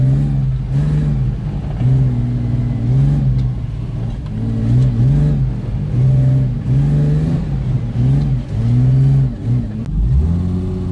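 A left-hand drive car's engine revs repeatedly under throttle while drifting, rising and falling in pitch in loud, close surges with brief lifts between pulls.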